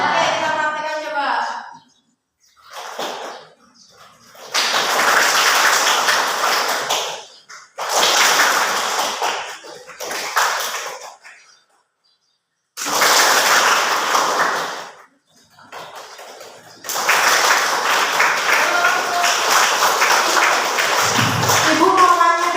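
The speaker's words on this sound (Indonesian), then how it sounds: "ketika Ibu merendah seperti ini, kalian tepuk tangannya pelan-pelan. Ketika Ibu semakin ke atas, kalian semakin keras." A classroom of students claps on a teacher's cue, in several bursts of crowded applause separated by silences, some softer and some louder and fuller, with a voice between bursts.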